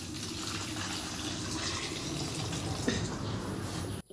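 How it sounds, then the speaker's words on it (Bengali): Water poured off washed lentils in a home kitchen, a steady close rushing stream that runs unbroken for about four seconds and then cuts off abruptly. "দেখো জলটা ফেলে দিচ্ছি"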